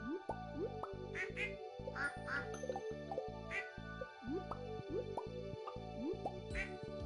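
Chickens let out in the farming game Stardew Valley: repeated chirpy clucks and squawks with little plopping game blips over a light, steady electronic tune, quiet and rhythmic.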